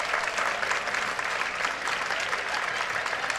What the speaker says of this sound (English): Home crowd clapping it up here for Gavin Bruni.